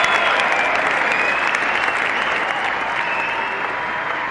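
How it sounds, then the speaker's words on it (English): Arena crowd at the 1995 Arnold Classic applauding bodybuilder Mike Francois in his hometown: sustained, even applause with crowd noise, easing slightly toward the end. "The applause continues for Mike Francois"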